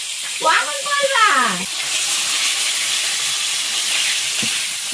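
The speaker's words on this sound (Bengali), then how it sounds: "মাছগুলো ভাজা হয়ে গেছে, উঠিয়ে নেবো" Fish frying in hot oil give off a steady, bright sizzle that fills the whole clip, with a brief voice-like sound near the start.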